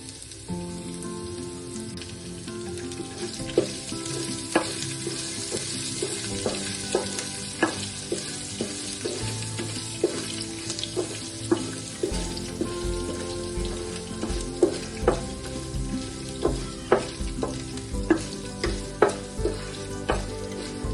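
Chopped ginger and split green chillies fry and get stirred in a hot pan, a steady sizzle broken by repeated scraping clatters from the spoon, close and continuous with no talking.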